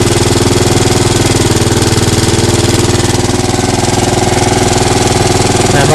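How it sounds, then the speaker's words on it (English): A Honda engine idles just after a cold start with its blades disengaged, giving a loud, steady, rapid chugging throb close by that runs evenly throughout with no voices. "It's really quiet because the blades aren't running right now."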